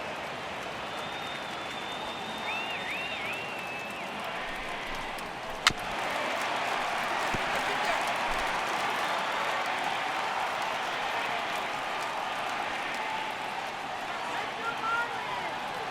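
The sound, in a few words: crowd cheering in MLB The Show 18 video game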